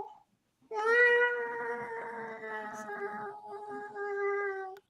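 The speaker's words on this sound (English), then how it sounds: "where's this meowing coming from?" A cat lets out one long, drawn-out meow that wavers in pitch and lasts several seconds, close and clear against a quiet background, preceded by a brief faint sound.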